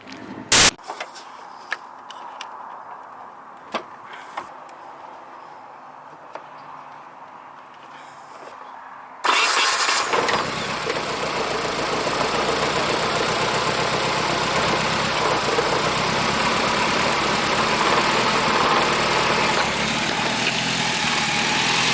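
A drift car engine fires up after a quiet stretch with a few clicks and knocks, then settles into a loud, steady, rough idle that runs close by and continues to the end.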